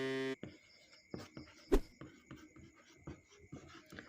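Chalk or marker writing on a classroom board during an economics lesson, a series of short scratchy strokes and taps in an irregular rhythm, close and fairly quiet, with no talking.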